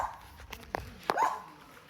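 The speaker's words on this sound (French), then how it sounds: "Beaucoup de chiens errants aussi." Stray dogs on a Philippine island bark in a few short, sharp outbursts, fairly faint and somewhat distant, with light rustling between barks.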